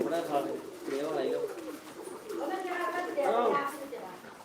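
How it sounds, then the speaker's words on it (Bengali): Fancy pigeons of several breeds coo at a pigeon farm in Biswanath, Sylhet, with soft repeated calls heard close by under steady talking. "আমার বদরুল ভাইয়ের কবুতর খামার এই যে কবুতরগুলা বাইরে অনেক অনেক সুন্দর অনেক সুন্দর উঠছে"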